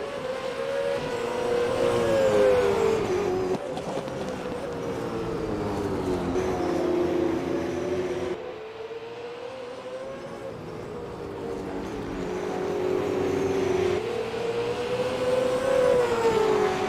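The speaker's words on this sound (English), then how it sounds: "So it's actually my broadcast car that's in the pit lane idling, so that explains that." A Super 2 series race car idles in the pit lane at the Sydney round, its engine droning loudly and continuously, the pitch gently rising and falling with a brief dip midway, with no talk over it.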